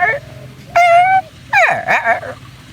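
A human voice imitates a dog: a quick sequence of high yips and whimpering barks, three bursts in a row, sharp and close, each rising and falling in pitch.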